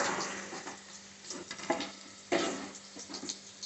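Paneer cubes frying in hot oil in a pan for paneer curry, a soft steady sizzle with occasional scraping and stirring knocks, close and moderate in level, no talk.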